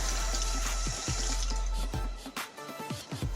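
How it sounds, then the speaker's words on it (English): Water poured from a bowl into a pan of simmering chocolate gravy, a steady splashing trickle close by with a low hum beneath and a few soft knocks. "now I need to add water to it. Because it's going to thicken."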